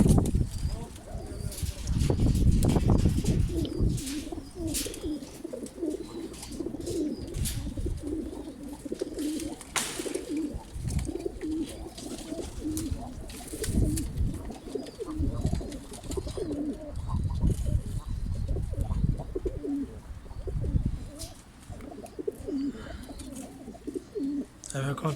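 Pigeons coo repeatedly and close by, soft low throaty calls in irregular bursts, with light rustling and a few chirps in a rainy setting.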